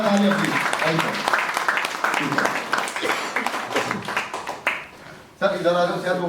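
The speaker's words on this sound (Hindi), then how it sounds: "जोरदार तालियां प्लीज" Applause from a corporate group at a laughter yoga session, scattered clapping mixed with voices and chatter, fading toward the end before a voice speaks alone.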